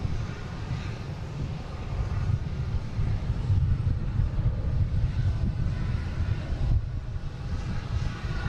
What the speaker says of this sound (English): we have a Delta heading to Raleigh-Durham, 737-800, flight 2782